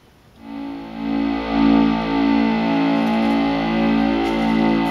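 Three detuned Thomas Henry 4046 VCOs in a modular synth patch swell in after a brief silence, holding one dense buzzing tone whose slow, wavering beating pulses steadily throughout.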